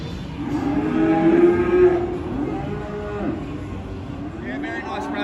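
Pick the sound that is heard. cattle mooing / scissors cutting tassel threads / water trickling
cattle mooing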